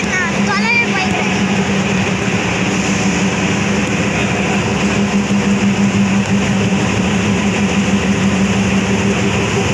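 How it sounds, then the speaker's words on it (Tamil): A loud, steady rumble of the Navajivan Express train approaching on rails, with screeching wheel squeals early on and a constant low mechanical drone throughout. "ட்ரெயின் வருது"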